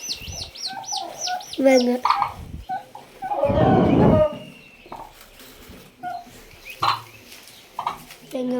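Chickens clucking and calling repeatedly close by, with a brief human voice and some speech mixed in among the bird sounds.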